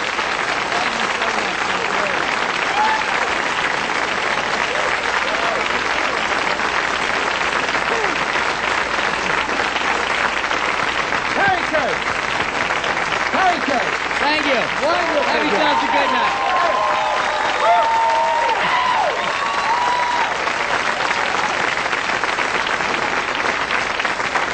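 Sustained audience applause at a comedy show, a dense wash of clapping that carries on throughout, with voices and cheers mixed in.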